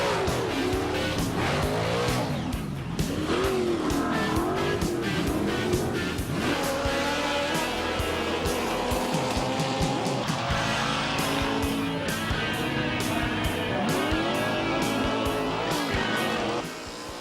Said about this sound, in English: Race cars come in all shapes and sizes.